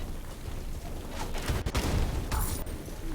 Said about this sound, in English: I love explosions.